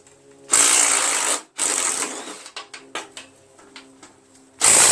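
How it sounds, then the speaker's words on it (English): An impact wrench takes apart a Craftsman 6.75 Tecumseh 21-inch self-propelled lawn mower. It gives two long, loud rattling bursts, then a string of short stuttering hits, and a final burst at the end. "Impact wrench makes it much easier to dismantle."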